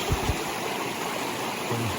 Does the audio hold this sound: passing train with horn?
no